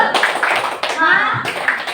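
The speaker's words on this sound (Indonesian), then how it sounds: "Satu kali lagi, tepuk semangat." Pupils clap out a rhythmic spirit-clapping chant in a primary school classroom. Sharp, closely spaced hand claps mix with children's voices, loud and close, in short bursts.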